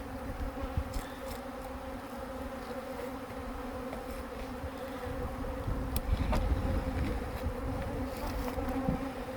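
A swarm of honey bees being captured fills the air with a dense, continuous buzzing hum, close and steady, with individual bees passing near and no talking.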